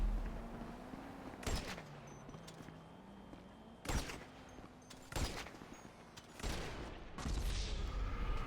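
Gunfire crackles through a video game tank and half-track battle, several sharp distant shots and short bursts spaced irregularly over a steady low engine drone.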